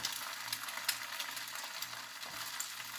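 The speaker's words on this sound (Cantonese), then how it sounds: "加蛋落去之後呢，將旁邊嘅蛋白整理一下" Egg frying in oil in a wok over medium-high heat, giving a steady hiss and sizzle with light crackles and faint scraping, no voices.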